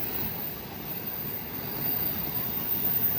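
Commuter train arriving at Juanda station in Jakarta, a steady low rumble and rolling wheel noise that swells slightly toward the end, with no talk over it.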